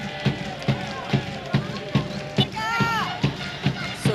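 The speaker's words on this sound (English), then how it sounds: "So great to hear the crowd, the home crowd, cheering for the Canal Girls." Home crowd at a women's international football match between Panama and Guatemala, rhythmic chanting and drumming with regular beats roughly every half second, with whistles or shrill cheers rising over it.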